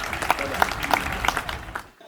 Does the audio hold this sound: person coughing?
no